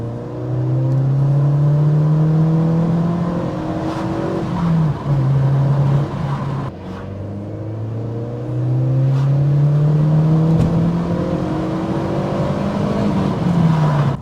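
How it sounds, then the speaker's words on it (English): A Mazda MX-5 Miata NC fitted with a ram air induction kit accelerates and shifts on the road, its engine note rising through the gears with a strong intake roar, loud and close throughout. "The induction noise is so much better, and it seems to have a good amount of mid-range torque."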